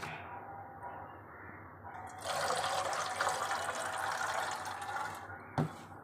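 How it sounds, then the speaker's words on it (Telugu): Water splashes and sloshes steadily as butter is washed in clean water for making ghee, growing louder partway through, with a sharp knock near the end. "దీన్ని రెండుసార్లు వాష్ చేసుకోవాలి మంచినీళ్ళతో ఇలా"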